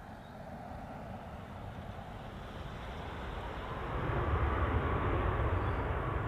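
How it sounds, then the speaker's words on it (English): Ryanair Boeing 737-800 MAX arriving from Lisbon and landing at Manchester Airport, a distant low jet rumble that swells steadily louder toward the end, heard alone. "Next touchdown, coming in from Lisbon, is a Boeing 737-800 MAX."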